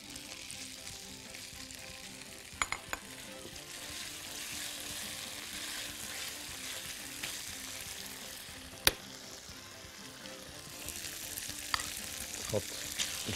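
Sausage and caramelized onions fry in an oiled pan with a soft, steady sizzle, fairly quiet, with a few sharp clicks and knocks of a utensil and no talking.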